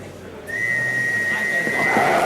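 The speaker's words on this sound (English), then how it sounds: "when I blows the whistle" A referee's whistle blows one long, steady, shrill blast of about a second and a half at a rat-killing contest with a terrier, against a noisy indoor crowd and background murmur.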